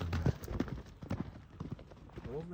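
A horse's hooves clip-clop on muddy, wet ground in an irregular walking rhythm, close and moderately loud, with soft background noise.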